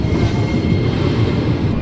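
A KRL commuter train pulls into Manggarai station, a steady broad rumble of wheels and carriages holding at constant loudness throughout, close by with no talk.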